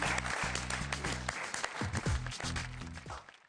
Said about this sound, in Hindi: जरा जोरदार तालियां हो जाए